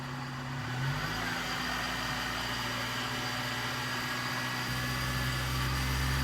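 A Suzuki APV engine, running after a radiator flush, idles steadily up close with a low rumble and then picks up in a slight rev partway through, under a constant hum.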